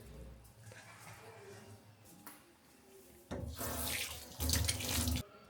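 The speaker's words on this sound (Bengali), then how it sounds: "তো হাতই ধুই নেই, হাত ধুই আসি।" Water runs from a tap into a sink as hands are washed, a steady hiss that surges louder and splashier in two bursts near the end, with no talk over it.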